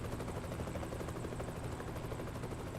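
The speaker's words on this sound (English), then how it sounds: "You can see that helicopter there." A helicopter in the truck-driving game American Truck Simulator thrums overhead as a faint, steady rotor drone that holds evenly throughout, with no talk.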